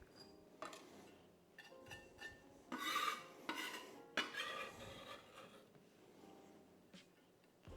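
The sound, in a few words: knife finely cutting fresh lemongrass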